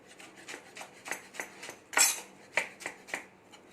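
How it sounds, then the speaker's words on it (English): A knife roughly chopping blanched spinach on a cutting board in a home kitchen, with a steady series of crisp, close chops about twice a second and one louder, sharper strike in the middle. "I'm just roughly chopping this spinach."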